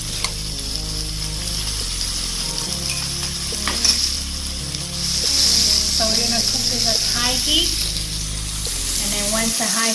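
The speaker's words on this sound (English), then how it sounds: "the high heat kind of burn a little bit on one side, then I flip to the other side and I put the rest of the garlic onto the steak" A rib-eye steak with garlic sears and sizzles in a pan over high heat, a loud, continuous frying crackle with intermittent scraping and clinks of utensils, and someone talking briefly.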